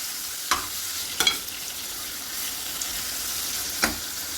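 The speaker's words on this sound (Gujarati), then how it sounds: "અડધી સેકન્ડ માટે પરવરને સરસ તેલમાં સાંતળી લઈએ" Pointed gourd (parwal) with salt and turmeric sautés in oil in a pan, giving a steady soft sizzle with a few sharp stirring scrapes spaced through it, close and without speech.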